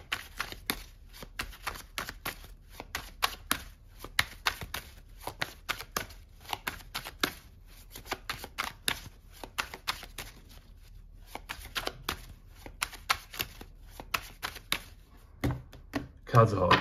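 Tarot cards are shuffled in a long run of quick riffling and snapping bursts, close and crisp, with a brief voice near the end.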